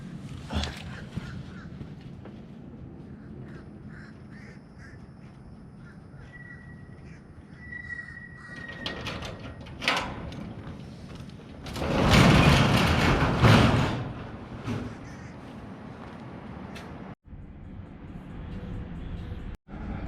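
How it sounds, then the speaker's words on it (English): A gate opens with a loud grinding, scraping slide lasting a couple of seconds, preceded by quieter rattles and a faint squeak, then a couple of sharp clunks as it stops. "let me open up this gate and get to work"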